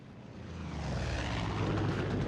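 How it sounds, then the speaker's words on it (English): An enemy cult plane in Far Cry 5 flies in with a steady propeller-engine drone that slowly swells louder, a continuous broad roar with no voices. "That plane belongs to a Chosen."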